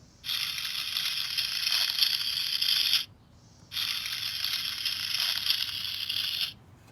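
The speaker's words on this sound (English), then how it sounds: "This is what a hermit crab sounds like." A recording of a hermit crab gives two bursts of dry, crackling, scratchy clicking, each lasting about three seconds and separated by a short quiet gap.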